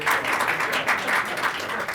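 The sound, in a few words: applause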